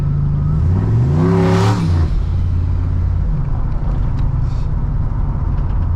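A big turbo street truck engine pulls hard and rises in pitch through a gear shift, then drops back to a loud steady drone with turbo whir and whoosh, close and continuous.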